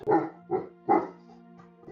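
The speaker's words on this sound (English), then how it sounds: "They're just always barking, always making noise." Sharp barks from a neighbor's dog come in three quick loud bursts, close and clear, with a fourth starting at the end.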